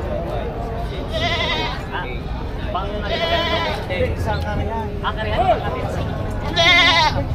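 Goats bleat loudly several times in short wavering cries at a livestock market, mixed with people talking nearby and a busy outdoor background.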